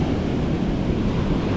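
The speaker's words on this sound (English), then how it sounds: "These waves are big, man." Big ocean waves churn in a continuous, heavy roar of surf and wind as Hurricane Ernesto passes the Northeast coast during fluke fishing, loud and unbroken with no talking.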